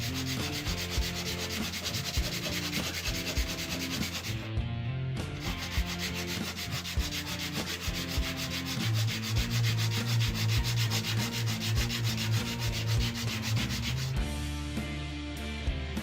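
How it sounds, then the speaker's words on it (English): Sandpaper is rubbed back and forth over the small wooden moving parts of a rubber band gun. It makes a loud, continuous rhythmic scratching with steady fast strokes and a brief pause around four seconds in. "After that, you'll want to sand all the moving parts."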